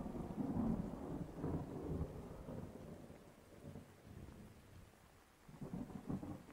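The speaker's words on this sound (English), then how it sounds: "the rumble of thunder came." Deep thunder rumbles through a monsoon downpour, rolling in long low swells over steady heavy rain, fairly faint and with no voices.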